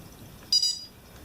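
A PIT tag reader used for identifying tagged rattlesnakes gives a single short, high electronic beep, with a brief tonal tail, near and clear against a quiet background.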